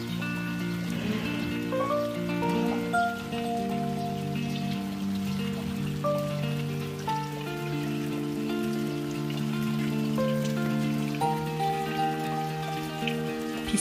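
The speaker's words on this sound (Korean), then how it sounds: "아침부터 촉촉히 비가 오기 시작합니다" Rain falls steadily on a rose garden in full bloom, a soft, even patter that holds for the whole stretch with no voices.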